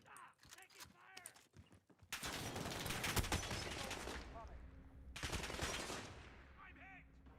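Sustained automatic gunfire from a video game firefight erupts in long dense bursts, loud and close, breaking off briefly before another heavy volley, with a voice talking in the quieter moments.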